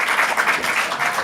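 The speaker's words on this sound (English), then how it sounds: "I have never heard a dentist get that much applause" Brief burst of audience applause for a stand-up comic at a student showcase, a dense spread of clapping hands from a crowd, steady and fairly loud for about a second.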